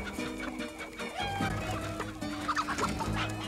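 Several chickens in a henhouse in an animated Madeline cartoon cluck and squawk agitatedly over a busy background, their calls overlapping in a frantic, continuous flurry.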